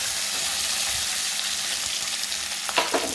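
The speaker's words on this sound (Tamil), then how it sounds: "இந்த தேங்காய் வந்து நல்லா வந்து அந்த ஈரம் போக நல்லா வந்து வறுக்கணும்" Grated coconut with curry leaves roasts in a pan for coconut rice, a steady close sizzle and crackle with a few scraping stirs near the end.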